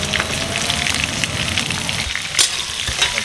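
Chilies drop into hot oil with cumin and crackle in a loud, close, dense sizzle, with stirring scrapes and a few sharper pops toward the end.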